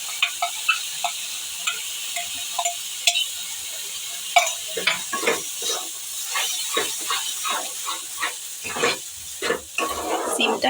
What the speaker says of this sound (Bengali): দেখো পেঁয়াজটা একটু ভাজা ভাজা হয়ে গেছে, এবার দেবো আদা, রসুন আর টমেটোর পেস্টটা।